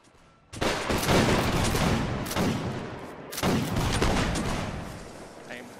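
Ragged volleys of muskets from line infantry in a Napoleonic Wars battle game, two dense crackling bursts of many overlapping shots echoing near and loud, each rolling off into rumble.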